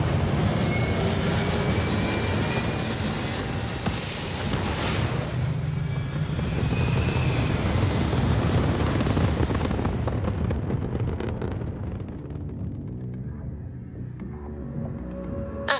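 Spaceship takeoff in the video game Starfield: a loud, sustained rumbling roar with crackling bursts that swells, then gradually thins and fades away as the ship climbs.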